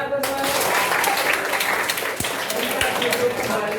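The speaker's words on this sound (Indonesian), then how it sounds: "Tepuk tangan untuk semuanya." A high school class at SMAN 6 Malang bursts into a few seconds of dense group clapping, close and lively, with some voices mixed in.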